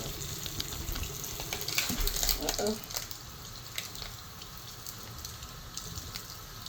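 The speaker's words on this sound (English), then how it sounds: "I'm just gonna put water in here." Running water splashes and gurgles into a bottle in a bathroom at moderate volume, strongest early on, with faint background noise afterward.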